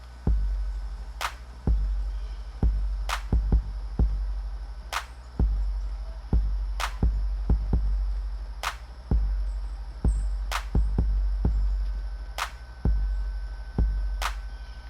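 A steady electronic beat built in Fortnite Creative, with deep booming bass pulses and sharp clicky hits repeating in a regular loop, bright high ticks every couple of seconds, no voices.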